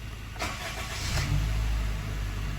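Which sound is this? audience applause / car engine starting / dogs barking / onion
car engine starting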